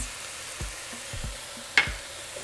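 Ground meat and longaniza sausage frying with minced garlic and spices, a low steady sizzle with several soft thuds of stirring and one sharper clink of utensil on pan, close and quiet, no voices.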